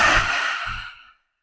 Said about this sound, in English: a long exhale through the mouth as we stick the tongue out